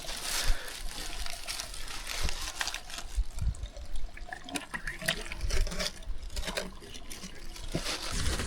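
A wilderness stream runs steadily close by, a continuous rushing and trickling wash of water with small splashes and no speech.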